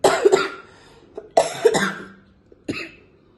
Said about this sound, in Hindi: और इस वक्त खांसी इतनी आ रही ना कि